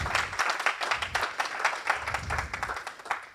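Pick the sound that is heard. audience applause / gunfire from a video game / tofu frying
audience applause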